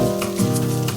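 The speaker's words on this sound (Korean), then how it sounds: "냄비에 양파를 넣고 양파가 투명해질 때까지 볶아줍니다" Steady sizzling of onions frying in a pot, with a low continuous hiss and faint stirring scrapes throughout.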